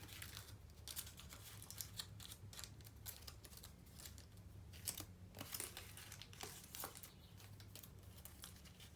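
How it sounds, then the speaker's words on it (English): Tin foil folded by hand around a small square for a summer reading knight craft, giving a steady run of close crinkling and crumpling rustles with sharp little crackles throughout. "we're going to fold the tin foil"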